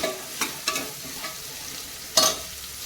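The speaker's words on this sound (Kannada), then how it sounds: "ನೋಡಿ ಈ ಥರ ಎಲ್ಲ ಸೇರಿಸಿ ಈಗ ಚೆನ್ನಾಗಿ ಫ್ರೈ ಮಾಡ್ತೇನೆ." Vegetables, including capsicum, fry in a pan for restaurant-style veg biryani, with a soft sizzle under a few sharp spatula scrapes and stirs.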